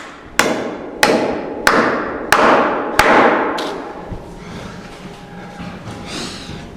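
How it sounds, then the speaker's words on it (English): Five hard hammer blows strike nails into fairly soft concrete at a steady pace, each a sharp ringing impact that fades out, followed by a quieter pause with faint background noise. "Feeling really good about this concrete nailing."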